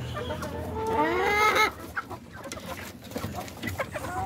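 Chickens cluck and squawk close by, a rising crowing-like call followed by scattered short clucks and rustling.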